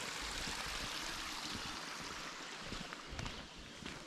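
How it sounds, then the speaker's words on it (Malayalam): A small stream flows near a forest cabin in Cook Forest State Park, Pennsylvania, giving a steady, close wash of running water with no voices. "ഇത് ചെറിയൊരു അരുവി ഒഴുകുന്നുണ്ട്."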